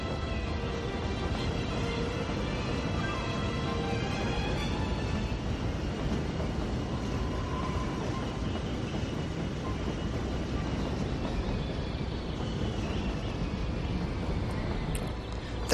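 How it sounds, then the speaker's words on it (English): Steady low rumble of a train moving past in a first-person video game, a constant broadband roar with faint tonal hum, sustained evenly throughout with no talk. "I hear another train"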